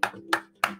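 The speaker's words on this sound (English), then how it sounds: "Give a clap." Three short bursts of hand clapping at a live quiz-style event, each sharp crack fading quickly, spaced evenly about a third of a second apart over a low background hum.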